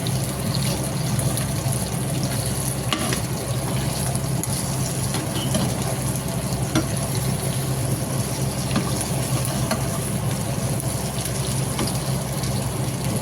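Chicken fries in a pan with just a little oil, giving a steady, even sizzle that holds up close and unbroken throughout.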